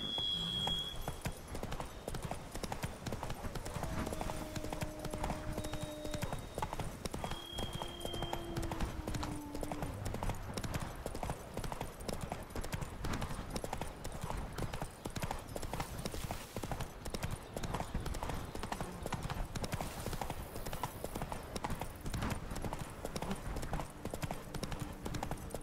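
Roach trots along in The Witcher 3: Blood and Wine, hooves clip-clopping in a steady, continuous rhythm under quiet game music for the whole stretch.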